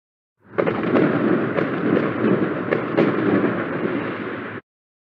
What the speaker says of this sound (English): just because I felt like letting the fireworks off